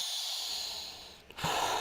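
Air drawn in through the nose during a guided breathing exercise, a long steady airy inhale filling most of the clip, then a brief pause and a short stronger intake near the end, close and alone with no talk.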